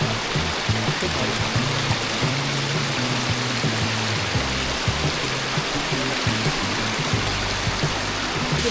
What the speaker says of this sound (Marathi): किती भारी धबधबा आहे बघा,